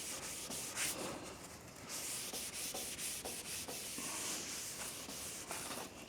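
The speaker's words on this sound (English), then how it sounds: "you come back and wipe it off. Wipe off the excess." Excess primer wiped off the metalwork of a 1937 Chevy, a close, steady rubbing and scuffing with repeated short strokes and a faint hiss throughout.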